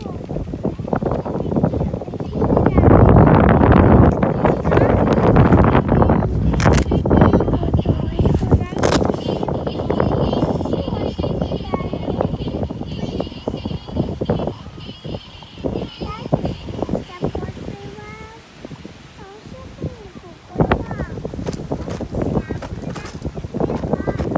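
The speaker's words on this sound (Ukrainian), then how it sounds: "сильний вітер" Strong wind buffets the microphone in a steady roaring rush, with faint voices and scattered thumps underneath.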